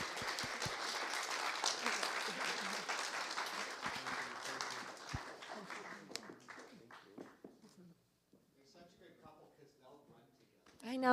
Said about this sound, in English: could you guys just give them one more round of applause for?